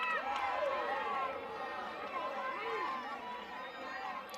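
Crowd noise at a college softball game between Oklahoma and UIC, a steady murmur of distant spectators with scattered cheers and calls, heard under talk from a commentator.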